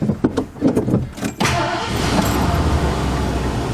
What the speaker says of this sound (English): we're going to take the car out here around the block just to warm it up first